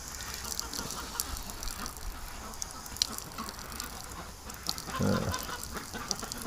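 Ducks quack and chatter softly in front of their pen during steady rain, with a bird chorus under a constant wet hiss and one slightly louder call near the end.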